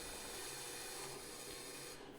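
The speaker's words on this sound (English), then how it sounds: "I'm using a 1/2 inch Forstner bit at the drill press" A half-inch Forstner bit in a drill press bores into wood, producing a steady, dense whirring grind that holds throughout and eases slightly at the very end.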